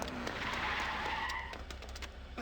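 A car skids in the PC video game Urban Runner, giving a loud, continuous tire squeal over engine noise that fades slightly toward the end, with no speech.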